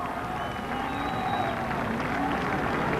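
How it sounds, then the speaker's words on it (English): A grandstand crowd at Stafford Motor Speedway applauds the winner of a 100-lap stock car race, with a steady, distant wash of clapping and cheering that stays even throughout. "let's give him a nice round of applause"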